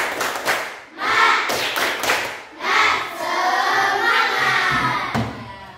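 Children in an elementary classroom perform a rhythmic tepuk semangat cheer, bursts of patterned hand claps mixed with shouted chanting voices, close and lively, pausing briefly between phrases.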